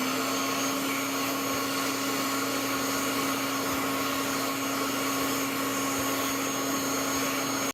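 A slim hand dryer in a public restroom runs steadily and loudly from start to end, a constant airflow roar with a higher-pitched whine than usual, cutting off abruptly at the finish.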